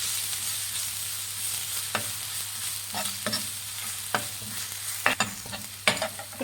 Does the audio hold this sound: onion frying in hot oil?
yes